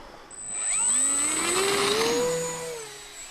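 An E-Flite Cirrus SR22T 1.5 m RC plane on a 4-cell 3200 battery takes off as its electric motor rises to a steady high whine, then sweeps downward in pitch as the plane climbs away and passes, loud and without speech.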